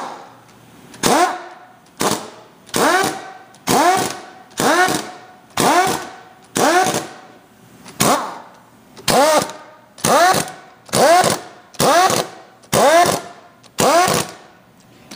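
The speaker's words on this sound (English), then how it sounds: "I'm going to torque these at 40 foot-pounds." Bolts on the back plates of a BMER dynamic motor rotating group being torqued to 40 foot-pounds, heard as about thirteen evenly spaced ratcheting strokes, one roughly every second, close and distinct against a quiet background.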